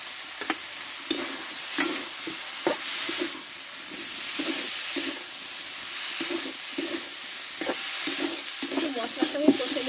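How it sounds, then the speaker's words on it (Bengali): Vegetables sizzle in hot oil in a pan for a Bengali vegetarian dish, a steady frying hiss punctuated by rhythmic scrapes and knocks of a stirring spoon. "ভালোভাবে কষে নিয়েছি, চারিদিকে তেলটা ছেড়ে দিয়েছি। এবার কষে রাখা সবজিগুলো আমি দিয়ে দেবো।"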